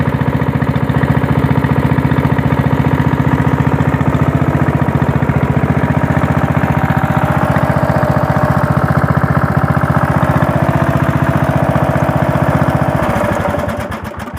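A 1998 Craftsman LT1000 lawn tractor engine runs loud and close with a steady droning idle that holds for the whole stretch, then wavers and drops slightly near the end; no voices.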